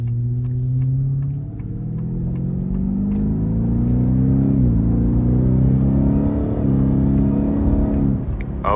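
Ford F-150 Raptor R engine in sport mode revving up through the rpm range, a loud, steady rising drone that climbs in pitch over several seconds with brief dips between gear changes, heard from inside the cab.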